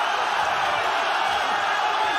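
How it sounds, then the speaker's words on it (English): A fight crowd at a GLORY kickboxing event roars steadily to urge on a kickboxer, a dense continuous wall of cheering and shouting with no breaks. "The crowd trying to urge Tank on."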